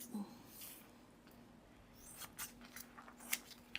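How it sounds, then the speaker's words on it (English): Sharp scissors cut around a traced paper candy-wrapper template, giving a few quick, faint snips and paper rustles in a quiet room. "So you're just gonna cut it. Cut it down. Make sure you get a nice sharp scissor"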